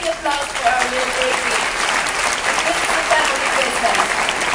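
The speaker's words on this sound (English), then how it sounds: "A big applause for our little" A large audience aboard the MSC Grandiosa cruise ship claps through a christening ceremony, a loud, continuous wash of applause with a host's amplified voice heard faintly over it.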